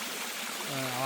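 Rainwater streams down a Velliangiri mountain trail during a trek, a steady close rushing and trickling that continues throughout, with a voice briefly heard near the end.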